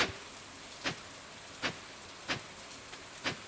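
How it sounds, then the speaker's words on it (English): Rain in Stardew Valley falls as a steady soft hiss, broken by a few evenly spaced brighter splashes or drips roughly every second, with nobody speaking. "It's raining."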